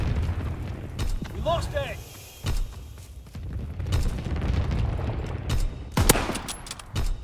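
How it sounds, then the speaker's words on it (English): Anti-aircraft battery salvos in a World War II style strategy video game, a series of dull booming blasts and sharp bursts rolling through a busy battle mix, with a game announcer voice speaking briefly. "Anti-aircraft salvo commenced."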